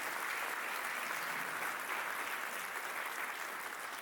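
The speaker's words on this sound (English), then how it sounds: "Could we give them a round of applause?" An audience at a chancellor's retreat keynote applauds college presidents, a steady, sustained wash of clapping from a large crowd, somewhat distant and even throughout.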